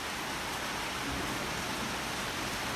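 Heavy rain pours in a steady, dense broadband wash, constant and fairly close, with no breaks or voices over its short span.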